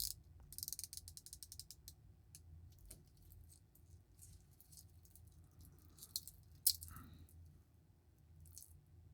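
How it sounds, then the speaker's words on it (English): A Zelos dive watch bezel turns in bursts of fine, crisp ratcheting clicks, close up and quiet, with brief pauses between rotations and one sharper click near the end. "Bezel action is nice and easy."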